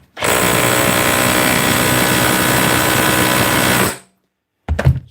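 A repaired cordless rotary hammer from a DeWalt, Bosch or Milwaukee tool repair runs in hammer mode, a loud dense rattling drone for about four seconds that cuts off sharply, followed by a short thump.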